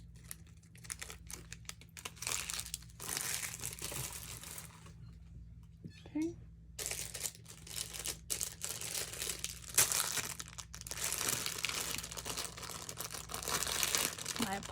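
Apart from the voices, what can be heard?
plastic packaging crinkling during unboxing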